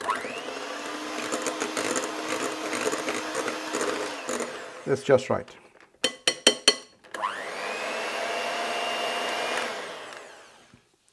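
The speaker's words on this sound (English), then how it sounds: "So just be careful, don't over whip the cream." An electric mixer whips cream for a strawberry yoghurt cake with a steady, loud whir that stops midway amid a few clunks and knocks, then starts again and runs evenly before winding down. A voice speaks briefly.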